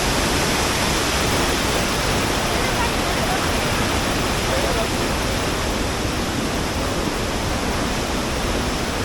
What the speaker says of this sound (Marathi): पाणी पाहिलात धबधब्यामध्ये किती आहे